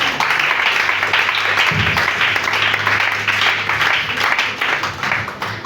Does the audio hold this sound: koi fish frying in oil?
no